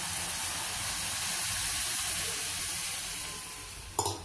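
Hot milk poured over roasted semolina gives a steady, loud broadband sizzle and hiss that holds for about four seconds, then eases off, ending in a couple of brief scraping knocks.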